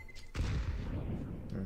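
A grenade goes off in a first-person shooter: a sharp broadband blast followed by a sustained rumbling roar that fills the rest of the clip, fairly loud, with no speech over it.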